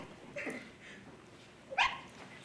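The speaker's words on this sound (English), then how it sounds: "Oh, you wonderful dog." A dog gives two faint, short yips during a high school stage production of The Wizard of Oz, small and somewhat distant in a quiet hall.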